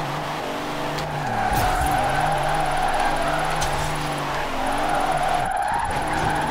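A Mercedes Unimog tuned to 2400 hp drifting in the video game Forza Horizon 4, its engine droning steadily while tires squeal continuously through long slides, with brief gear shifts and a rising rev near the end.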